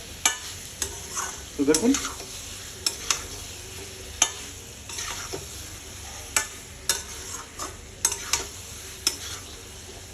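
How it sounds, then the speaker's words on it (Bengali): Spicy masala for egg curry is sautéed in a pan: a steady light sizzle with frequent small spoon clicks and scrapes, one brief rustling stir, and a short spoken phrase from a voice. "তো 1-2 মিনিটের মতো এরকম কষিয়ে নেব"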